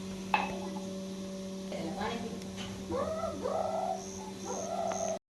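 A small puppy at a Gir cow shelter gives a string of thin, high whimpers and whines, close and fairly soft, with a faint clink early on and a steady hum underneath.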